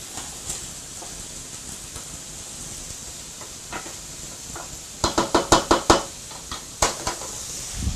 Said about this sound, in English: So just give a good stir.